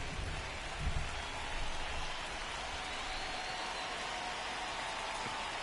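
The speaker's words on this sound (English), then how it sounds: "Here in the rain." Steady rain pours down at a ballpark in MLB The Show 25, a dense continuous hiss with no break and no talk over it.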